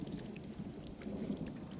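Steady rain with a low thunderstorm rumble, a constant dense wash at fairly low level with no breaks.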